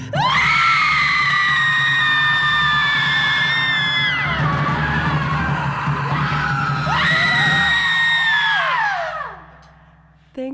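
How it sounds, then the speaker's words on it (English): A group of people screams together in one long sustained burst, loud and close, with overlapping high voices that fade, surge again, then trail off into brief quiet at the end. "here's your chance to cathartically scream with us"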